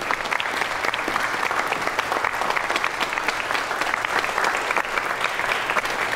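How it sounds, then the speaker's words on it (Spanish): An audience applauds to welcome a historian, a steady, dense wash of clapping that holds at an even level throughout with no talk over it. "Recibamos con un fuerte aplauso a la historiadora que ha hecho posible todo esto, Jessica Cooper."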